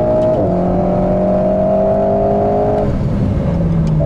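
An Alpine A110 sports car engine on a track gives a loud, steady droning note that holds for a few seconds and then drops away, with the engine running on alone.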